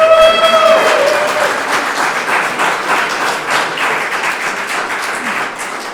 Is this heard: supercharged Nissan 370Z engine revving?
no